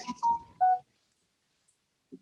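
A short electronic phone tone of three quick beeps, close and clear, followed by silence and a faint brief blip.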